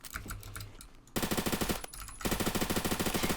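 Rapid automatic gunfire from the video game Fortnite rattles in two loud bursts, close and relentless, separated by a short quieter gap.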